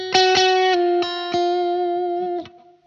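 Electric guitar through a Victory VC35 amplifier with reverb, a few plucked notes over a held tone that ring and tail off into a short reverb decay, played alone.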